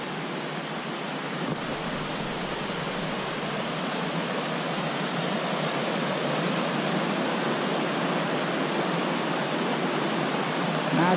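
Continuous rushing of creek water, a steady broadband babble that grows slightly louder and stays constant with no voices.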